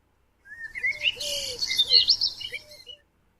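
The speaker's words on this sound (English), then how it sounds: "I hear a bird." A bird chirps and tweets in a quick, busy run of high calls for a few seconds, clear and close, with nothing else around it.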